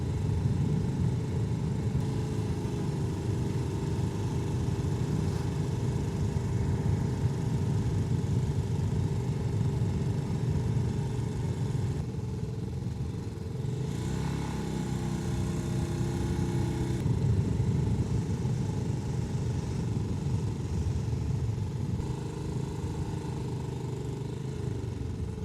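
A motorcycle ridden along a road in Sri Lanka, heading from Colombo toward the northeast, with a steady engine drone and wind rumble throughout and slight shifts in pitch as the speed changes. No one speaks.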